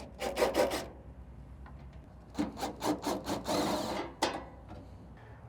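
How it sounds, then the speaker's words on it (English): Screws are backed out of the bottom hopper panel of a Camp Chef pellet grill, producing close, repeated short grinding and rasping bursts in uneven clusters with brief pauses between, no talking. "take off the bottom panel from our hopper by undoing these 4 screws"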